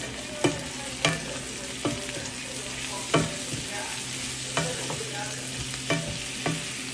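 Tomato, green chili and ginger stir-fried with bombay duck fish, a steady close sizzle broken by about a dozen sharp spatula scrapes and knocks against the pan at an uneven rhythm.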